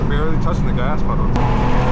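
A tuned 700hp BMW M4 G82 with a loud exhaust responds to a touch of throttle, giving a brief, dense, steady engine roar close by.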